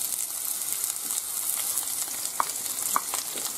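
Green pepper sautéing in oil in a frying pan, with a steady, dense sizzle throughout and a couple of light clicks of stirring, close and with no one talking.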